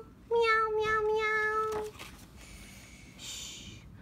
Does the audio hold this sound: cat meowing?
yes